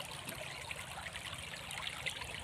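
A small, murky river stream flows in the rainy season, a steady, close trickling and gurgling with no voices.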